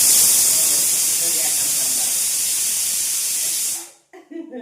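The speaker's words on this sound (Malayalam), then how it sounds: "ഒരു വിസിലായി കേട്ടോ." Pressure cooker venting steam while cooking for an idli and sambar breakfast; a loud, continuous hiss holds for nearly four seconds, then cuts off abruptly and a brief voice follows.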